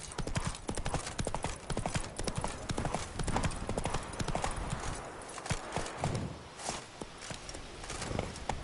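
Hooves of the horse Roach clip-clop steadily in The Witcher III, a continuous close walking rhythm with faint game background sound and a brief hint of voice.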